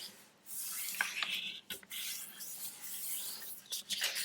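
A single sheet of paper is folded and creased by hand, soft close rustling and rubbing strokes in several short bursts.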